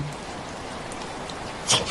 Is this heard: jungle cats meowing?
no